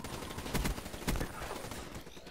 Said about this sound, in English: I'm shooting through the wall